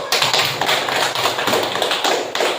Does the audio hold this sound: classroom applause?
yes